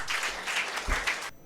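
Audience applause at a Tamil pattimandram debate stage welcoming a speaker, a short burst of dense clapping that cuts off abruptly.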